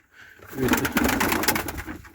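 Pigeons feeding on the ground give a short burst of soft, close cooing and fluttery calls lasting a couple of seconds, with no one talking.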